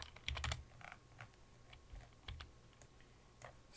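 Mouse clicks and key presses in CAD software while the Alt key is held, a quiet scattering of crisp clicks and taps with a small cluster early on and sparse clicks after.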